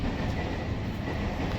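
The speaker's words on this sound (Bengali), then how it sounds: "আর ট্রেন যাচ্ছে" Broadband rumble of a train passing nearby, a steady continuous roar with faint rhythmic rail clatter, loud and unbroken throughout.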